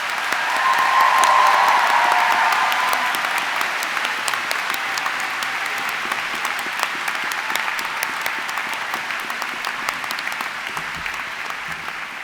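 A large graduation ceremony audience at London College of Fashion applauds university staff, dense sustained clapping that swells early then holds steady throughout.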